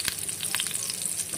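Fish sizzles and spits in a hot frying pan in a home kitchen, a loud continuous crackle with sharp pops, close and without talk.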